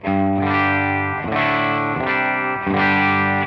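A distorted electric guitar with humbucker pickups, played through an effects pedal, rings out sustained chords, changing roughly every second with a thick, shimmering, effected tone.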